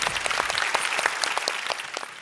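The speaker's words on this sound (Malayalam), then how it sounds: "അപ്പൊ ആദ്യം തന്നെ ഒരു വലിയ കൈയടി എല്ലാവർക്കും" Applause from a television reality show audience for senior contestants, quick overlapping claps forming a lively, fairly even patter throughout, moderately loud and with no voices on top.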